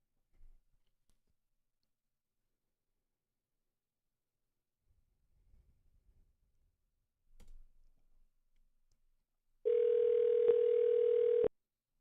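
Telephone call being placed, with a few faint clicks and handling noises in near silence, then a single loud steady tone lasting about two seconds.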